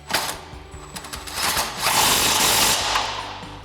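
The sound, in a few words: impact wrench with 16mm socket tightening Jeep suspension bolts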